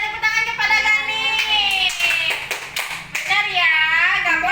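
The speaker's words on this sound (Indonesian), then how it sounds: "tepuk tangan kepada Gani" Children in a primary-school classroom clap for a classmate, a short burst of hand claps under a teacher's voice and children's chatter.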